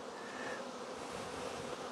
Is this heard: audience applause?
no